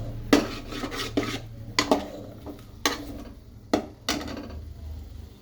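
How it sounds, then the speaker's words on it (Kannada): A utensil stirs pepper powder into masala in a pan, giving a series of irregular close metallic scrapes and clinks, spaced unevenly over a low background hum, with no talking. "ಸ್ವಲ್ಪ ಪೆಪ್ಪರ್ ಪೌಡರ್ ಜೊತೆ ಮಿಕ್ಸ್ ಮಾಡ್ಕೊಬೇಕು."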